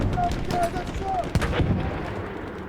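Gunfire in the video game Battlefield 1, rapid shots cracking close and loud in a busy battlefield mix, with a sharp burst near the middle and someone talking underneath.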